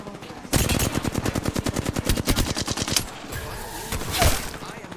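Rapid machine-gun fire in the video game Apex Legends, a fast, evenly spaced burst of loud close shots lasting about two and a half seconds before cutting off, followed by scattered game sounds.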